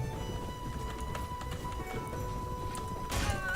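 Horse hooves from a horseman in the medieval battle game Prophesy of Pendor clop in quick, repeated beats, mixed into dense battle noise with a steady tonal hum underneath.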